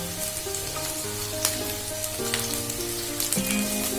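Ginger, garlic and green chilies frying in a wok for a prawn malaikari crackle in a bright, close sizzle, with a few light knocks of the spatula as they are stirred and no voices.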